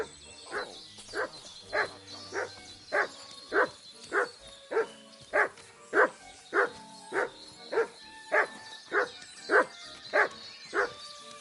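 A dog barks in a steady, evenly spaced run of about eighteen loud, close barks over roughly eleven seconds, with faint whimpering between them and no talk.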